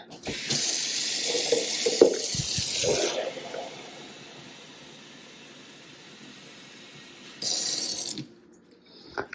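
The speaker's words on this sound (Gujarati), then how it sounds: "આમાં પાણી ભરીને રાખી દેવાનું એટલે ભરી જ દઈએ" Tap water runs into a household water filter container in short bursts, a bright splashing rush that stops, leaves a quiet gap, then resumes briefly before ending.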